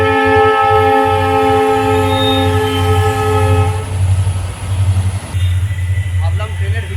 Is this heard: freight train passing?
yes